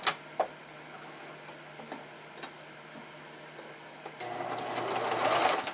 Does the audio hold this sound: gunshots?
no